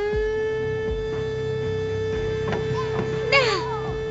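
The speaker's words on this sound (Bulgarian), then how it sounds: "Тази последна сирена отбелязва затварянето на нашия завод." A factory siren marking a plant's closure holds one steady, unwavering tone throughout, with children's voices and babble around it.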